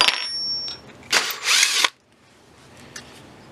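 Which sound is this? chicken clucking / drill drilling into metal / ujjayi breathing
drill drilling into metal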